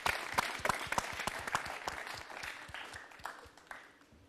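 Studio audience at a TV show breaks into applause, a dense, steady patter of many hands clapping that fades slightly toward the end, with no talk over it.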